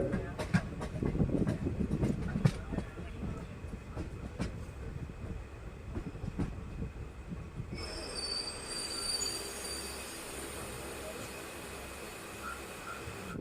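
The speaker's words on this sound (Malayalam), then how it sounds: "നമ്മുടെ ട്രെയിൻ അങ്ങനെ അപ്പോൾ ഹരിപ്പാട് റെയിൽവേ സ്റ്റേഷനിൽ നിന്ന് വീണ്ടും പുറപ്പെട്ടിരിക്കുകയാണ്" A passenger train pulls out of Haripad railway station in Alappuzha, wheels squealing and rumbling close by, with a steady rolling clatter building as it gets under way and no speech.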